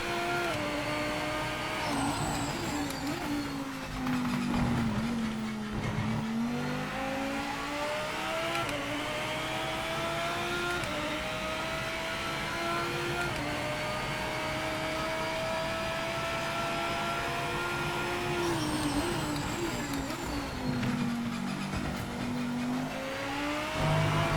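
A GT3 race car in Project Motor Racing lapping hard, its engine a loud continuous drone whose pitch climbs through the gears, dips on downshifts and rises again, heard alone with no talk.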